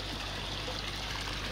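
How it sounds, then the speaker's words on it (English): Water from a pond trickling filter system on big blue barrels, running at about a litre and a half an hour, a steady close trickle and splash that continues evenly throughout with no voices. "Trickling system on big blues, putting in about a litre and a half."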